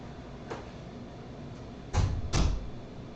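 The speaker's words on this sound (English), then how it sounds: "Oh, I can shut the doors." Household doors being shut indoors, giving two solid thuds close together near the end after a faint knock earlier, with no talking.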